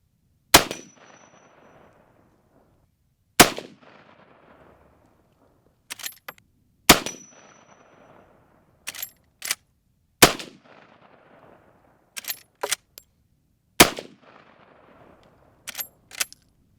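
Henry lever-action rifle firing .30-30 rounds outdoors: five loud, sharp shots spaced a few seconds apart, each followed by a decaying echo, with quieter metallic clicks of the lever action cycling between shots.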